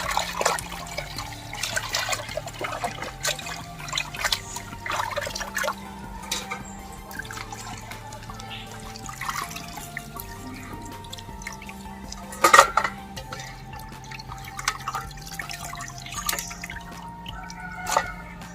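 Raw chicken pieces washed in water: faint splashing, dripping and trickling with soft clinks of a bowl, steady and close, with no talking.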